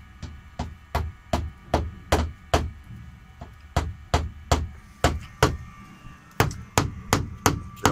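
Sharp, evenly paced hammer blows, about two per second, loud and close, with short pauses between bursts of strikes.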